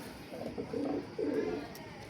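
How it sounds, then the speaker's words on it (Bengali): Pigeons, high-flying domestic birds, give soft low cooing in two rounded phrases, fairly quiet and close. "হীরাবাইয়ের কবুতরটা মাদি, 3টা মাদি যে একসাথে নেবেন"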